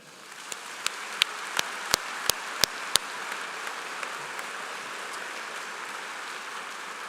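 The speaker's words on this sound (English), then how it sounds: "Let's give one more round of applause for all the students receiving special recognition today" A large crowd applauding students receiving special recognition at a high school commencement, a sustained, even wash of clapping with several loud, sharp individual claps or taps near the start.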